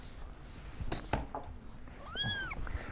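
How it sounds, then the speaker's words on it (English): Kittens at an animal shelter meowing, two or three faint high mews with one clear rising cry near the end, soft and fairly close over quiet background. "it was really nice to see the kittens"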